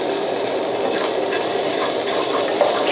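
Green curry paste stir-frying in oil in a wok, giving a steady, close, dense sizzle with light scraping throughout and no voices.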